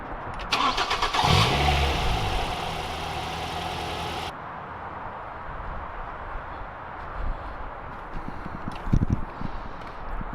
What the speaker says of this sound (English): I need to test if it's going to start up, you know, because we did soak the whole engine with water.